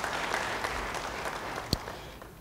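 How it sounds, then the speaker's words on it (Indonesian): A church congregation applauds during a sermon, a soft, steady patter of clapping from a crowd at a distance, with one sharper clap standing out near the end. "Yang percaya, beri tepuk tangan bagi dia."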